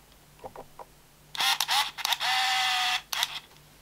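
A film camera loaded with black-and-white film is handled up close: a few small clicks, then a burst of sharp mechanical clatter, a sustained winding whir, and a final pair of clicks against a quiet room.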